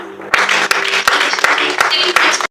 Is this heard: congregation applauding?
yes